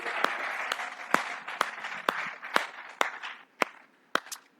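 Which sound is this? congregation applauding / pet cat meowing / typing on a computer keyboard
congregation applauding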